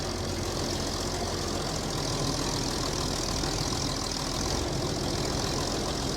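A rare Swed Trac tractor engine runs steadily in a field, a dense continuous rumble with a rough, knocking edge, close and loud throughout with no talk.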